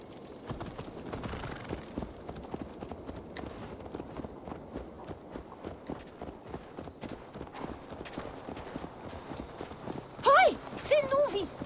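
Horse hooves clip-clop steadily in Assassin's Creed Valhalla, a regular moderate-paced walking rhythm held fairly close throughout, with a brief horse snort or whinny near the end.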